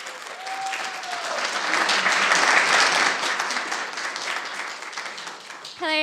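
A roomful of people at a community forum breaks into sustained applause, dense clapping swelling in the middle and tapering off before a voice begins right at the end.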